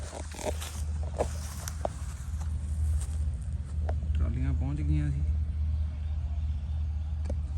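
A harvesting machine works a paddy field with a steady low rumbling drone, moderately near, while people talk over it with a few clicks and knocks.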